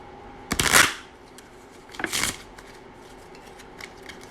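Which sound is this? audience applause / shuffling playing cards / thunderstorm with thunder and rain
shuffling playing cards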